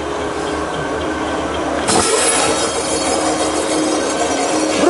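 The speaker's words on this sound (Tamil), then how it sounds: "இந்த மாதிரி பைப் கட்டிங் பண்ணுற மாதிரி இந்த மிஷின்ஸு" Pipe cutting machine cutting a sample job with coolant oil on a machine tool expo floor, a steady loud grinding, hissing cut that intensifies midway and continues under general hall noise.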